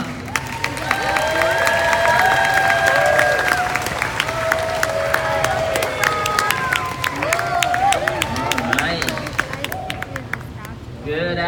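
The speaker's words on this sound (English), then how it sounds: "So if everyone could give Naokimi a round of applause to welcome him up" A large audience claps and cheers to welcome a guest speaker to the stage at a youth seminar, a dense, steady applause with crowd noise and some talk throughout, fading toward the end.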